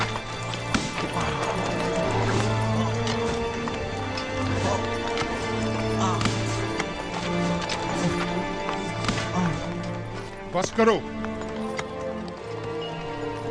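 A horse clip-clops and stamps in a chaotic scuffle over steady background music, with one brief whinny-like call near the end; someone shouts briefly amid the commotion.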